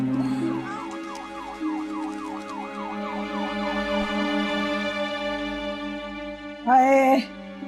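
An ambulance siren wails in a rapid, repeating up-and-down cycle, loud and near, over a steady tonal hum. It ends with a short, louder burst of speech near the close.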